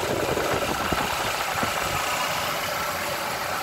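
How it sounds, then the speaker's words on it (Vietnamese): A 2004 Joly car's engine idling smoothly for a used-car sale, a steady, even mid-low running note with no talking over it. "máy nổ rất là êm anh chị nha"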